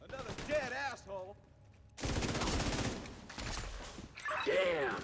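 Gunfire in a video game sounds as a dense burst of rapid shots, loud and close, between stretches of talking voices.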